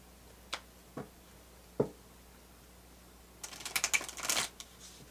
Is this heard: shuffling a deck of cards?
yes